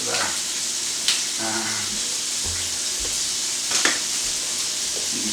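Bacon frying in a pan gives a continuous, fairly loud sizzle with a few clinks and scrapes, while a voice speaks briefly over it.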